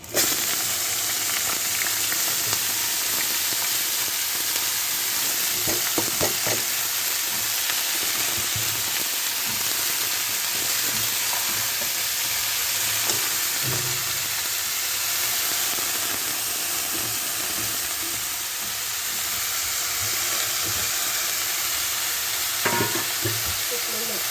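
Cabbage fries in a hot pan for a vegetarian dish, giving a steady, loud sizzle and hiss with intermittent scraping and clinking of the spatula as it is stirred.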